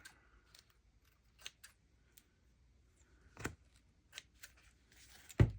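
Scissors snip through tulle and cheesecloth in a few scattered, faint cuts separated by quiet pauses, ending on a louder handling thump.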